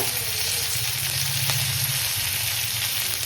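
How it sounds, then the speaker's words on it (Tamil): Curry leaves fry in hot oil in a pan, making a loud, continuous close sizzle with a steady crackling hiss that holds unchanged throughout. "நல்லா பொரிஞ்சிட்ட பிறகு கருவேப்பிலை போட்டுக்கோங்க."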